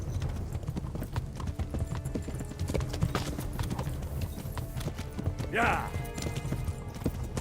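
Horse hooves clip-clop at a gallop in the medieval video game Kingdom Come, a quick steady drumming under faint background ambience, with a brief whinny and a player's short voice.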